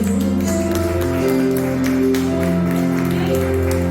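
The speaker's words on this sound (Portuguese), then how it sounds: "Vamos aplaudir o Senhor Jesus." A church congregation applauds during a Sunday service, steady clapping under sustained organ or keyboard tones that continue throughout.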